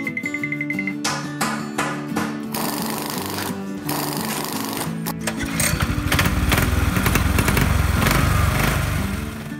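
A small lawnmower engine powering a car roars loudly and continuously, revving harder and rattling more in the second half, with a sputtering, buzzy tone.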